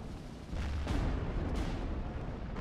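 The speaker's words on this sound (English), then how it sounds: "I believe that's a mortar." Mortar fire rumbles through a World War II battle in the game Steel Division: Normandy 44, a loud, sustained roar of blasts and booming artillery with a sharp crack partway through and no voices.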